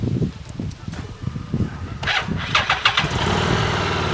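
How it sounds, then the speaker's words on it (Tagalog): A stock 750cc V-twin Harley-Davidson Street 750 motorcycle engine cranks and catches, then settles into a steady, smooth idle, with some talking over the start. "So, yan ang Suwabe. tunog ng 750cc na stock ng makina."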